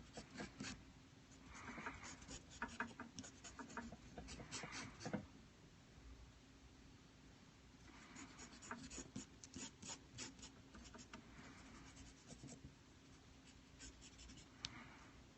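Pencil drawing on paper while sketching a Wolverine comic page: steady scratchy graphite strokes in rhythmic bursts, close and fairly quiet, with no talking.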